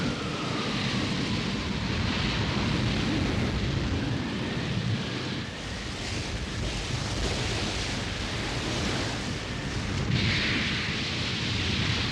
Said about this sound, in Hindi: पश्चिम आसमान में बिजली चमकने का एक ही मतलब होता है, और वो है गंदा मौसम। ये तूफान आने का संकेत है।